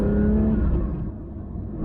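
A Porsche 911 S/T sports car under way, its engine giving a steady, close, loud drone that eases slightly as it continues, with no talking.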